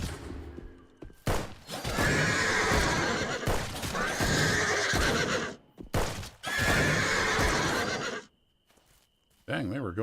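Horse neighing and whinnying in an open-world survival crafting game amid musket fire, with loud bursts of clattering, hoof-like thuds and gunfire filling most of the stretch before dropping away near the end.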